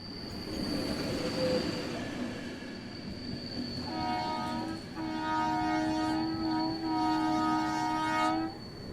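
A train rolls along the tracks in India with loud, sustained metallic wheel squeals and whining tones rising over a rumbling base.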